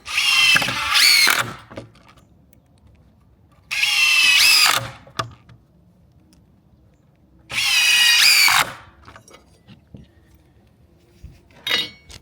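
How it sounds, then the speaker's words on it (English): A power drill drives screws into a wooden barrel sauna during assembly, with three loud whirring bursts of about a second each separated by quiet pauses, then a brief fourth burst at the end. "And then place another 3 screws in there."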